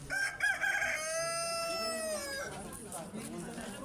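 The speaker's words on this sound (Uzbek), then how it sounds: "Xo'rozlarim ko'p." A rooster brought to sell at a market gives one long, drawn-out crow close by, with people talking around it and general market bustle behind.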